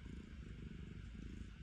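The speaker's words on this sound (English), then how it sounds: "Listen to the purrs." A cat purrs softly and close by, a low continuous rumbling vibration with no other sounds.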